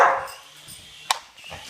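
A dog barks and yips briefly at a toy helicopter, a few short close sounds with quiet gaps between them.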